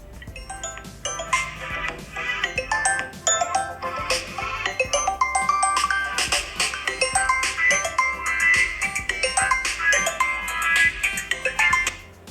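An incoming-call ringtone plays from a Vivo Y53S smartphone: a bright, busy electronic melody of chiming tones that continues steadily at moderate volume without talk.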